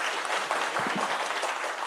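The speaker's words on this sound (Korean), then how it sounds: "다시 한번 뜨거운 박수 부탁드리겠습니다." A crowd at a university student support presentation showcase in Korea gives warm, continuous applause, a dense wash of many hands clapping at once, steady and moderately loud throughout.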